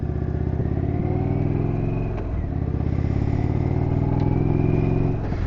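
Several motorcycles start and idle loudly nearby, engines revving up with a steady throbbing rumble and clattering mechanical tone, with no talk over them, before a group ride to a 1950s diner in New Brunswick.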